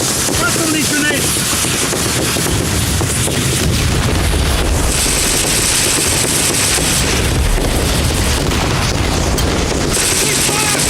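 Grenade explosions in a firefight: a continuous loud barrage of booms and blasts mixed with rapid gunfire, dense and unbroken for the whole stretch, with shouting voices buried in the din.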